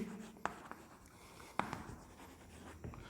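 Chalk or a marker scratches across a board during a class 11 maths lesson on straight lines, with faint irregular strokes and a few sharp taps, quiet and without speech.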